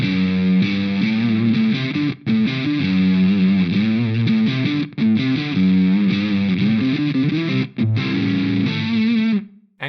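Electric guitar played through an Eventide H9 distortion algorithm with the sag control raised for a characterful tone, giving loud, sustained, saturated chords and notes with brief gaps between phrases, no voice.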